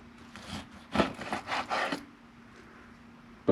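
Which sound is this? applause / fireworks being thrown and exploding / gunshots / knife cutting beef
knife cutting beef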